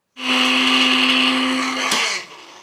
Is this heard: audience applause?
no